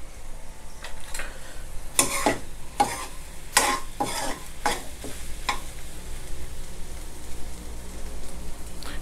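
Salted egg sauce with shrimp is stir-fried in a pan: a continuous crackling sizzle with repeated sharp spatula scrapes, clustered early and thinning out later, with no speech.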